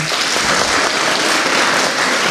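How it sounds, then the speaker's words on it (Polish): Dense, steady applause for a jury from a crowd at a film debate event, many hands clapping at once without a break. "Bardzo proszę jeszcze o gorące brawa dla naszego jury"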